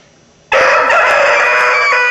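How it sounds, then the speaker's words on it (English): A rooster on a former pasture crows loudly and close by in one long sustained call that starts abruptly after a moment of quiet. "It's called crowing, right?"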